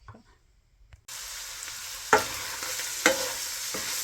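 Cooked ground beef in a pan, a sudden steady sizzle after a quiet start, broken by two sharp metallic clacks of a spatula stirring nearby.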